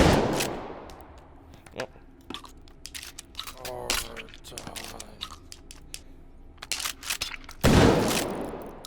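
Gunshots fired at sosig enemies in the VR shooter H3VR, loud sharp cracks scattered through the passage with a heavy burst near the end, mixed with impact and handling noises and a brief spoken word.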